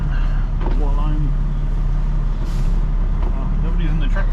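A truck reverses into a spot with air brakes, its low engine rumble steady throughout while a voice talks over it near the mic.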